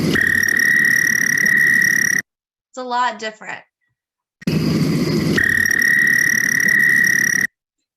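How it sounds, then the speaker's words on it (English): American toad calls: two long, loud, steady high trills, each lasting about two to three seconds, separated by a short spoken remark. "Next, we're going to hear an American toad. So this is what their call sounds like."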